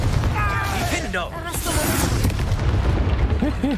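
Confringo explosion spell blasting in Hogwarts Legacy combat, a loud booming burst amid a constant heavy rumble, with German-speaking voices talking throughout.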